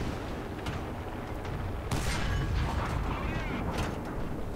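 In a War Thunder tank battle, a tank shell strikes armor and glances off a Panzer III Ausf. J1 or an enemy T-34: sharp, loud metallic impacts land around two seconds and again near four, over constant engine rumble and battle noise.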